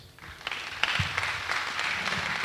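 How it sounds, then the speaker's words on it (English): An audience at a university technology week event applauds a guest, moderate clapping that starts softly and swells into a steady, fairly close patter lasting the whole stretch. "Round of applause for him."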